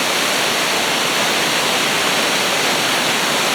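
A waterfall on a private property roars as a steady, dense wash of falling water, constant and close with no break or voices over it.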